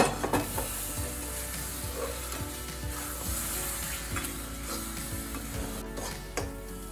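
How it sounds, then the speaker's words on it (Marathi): A spoon scrapes and stirs a thick panchamrit laddu mixture in a pan in steady repeated strokes, with a soft sizzle underneath. "हे सगळं चांगलं मिक्स करायचं."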